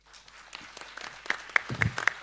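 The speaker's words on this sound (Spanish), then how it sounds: "Este aplauso es para Paco Moncayo" A panel audience at a dialogue of governors and local leaders begins applauding Paco Moncayo, sparse claps building into louder, denser clapping.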